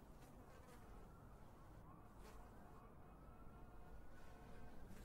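Flies buzz indoors in a room, a continuous faint droning hum with small swells in loudness and no speech.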